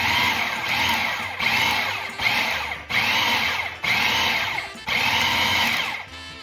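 A Cuisinart food processor pulses cold pie crust dough of flour, butter and eggs in five or six short bursts, each a loud whirring grind of the motor and blade, separated by brief pauses.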